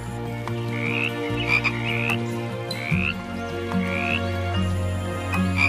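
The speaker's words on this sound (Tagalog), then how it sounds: "dumating si Apo Luning, ang pinakamatandang palaka sa kanilang lahi" Frogs croak repeatedly in short rising chirps over a steady hum of night insects, several calls spread across the stretch.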